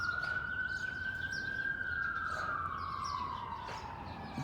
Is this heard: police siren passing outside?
yes